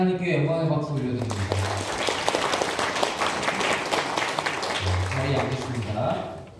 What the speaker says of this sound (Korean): 하나님께 영광의 박수 올려드립니다.